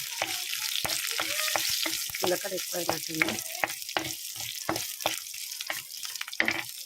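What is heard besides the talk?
cumin, garlic and dried chillies frying in oil, stirred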